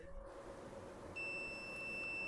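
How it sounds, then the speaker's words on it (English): A multimeter in continuity mode, probing a capacitor on a dead Haier appliance circuit board, gives one steady high-pitched beep that starts partway through and holds to the end over quiet room hiss. "So here, I think there will be a beep."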